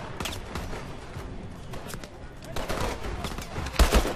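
Gunfire in the Call of Duty Advanced Warfare campaign, heard as a steady mix of rapid shots and bursts with a louder cluster of blasts near the end, with game voices underneath.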